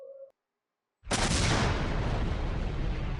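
An explosive blast from the volcano blowspout of the Island Whale in Granblue Fantasy, a sudden loud boom like a cannon shot that hits after a brief pause and rolls on as a long, dense roar.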